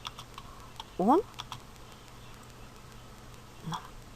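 Typing on a computer keyboard while writing Java code, a quick close burst of keystrokes with a few lighter scattered taps and quiet room noise.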